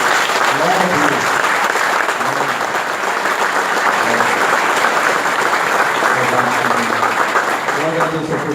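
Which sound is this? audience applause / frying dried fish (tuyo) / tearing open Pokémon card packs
audience applause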